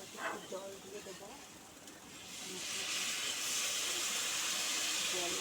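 A pan of cooking spices on a stove sizzles into a steady, rising hiss after a little water is added, with a faint voice briefly at the start.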